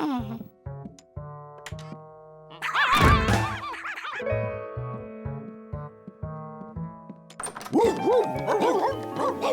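Many cartoon dogs bark and yip in quick bursts, piling up into a loud, busy chorus in a house over a bouncy musical score.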